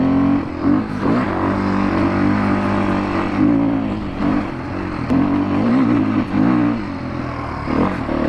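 A Beta dirt bike engine revs and pulls steadily while riding a tricky track, loud and close with rising and falling throttle throughout, no talk.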